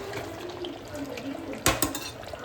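Hot water splashes into a pan of spicy chicken curry in a home kitchen, a brief sharp pour near the end over low, steady kitchen noise.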